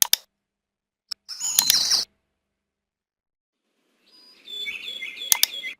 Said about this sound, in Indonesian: elemen suara burung, misalkan suara burung